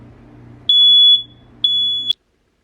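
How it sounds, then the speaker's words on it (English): A building smoke detector sounds two loud, piercing high-pitched beeps, each held about half a second, over a low background hum, with silence after the second beep. "Sometimes in these buildings, the smoke detectors go off and will not stop."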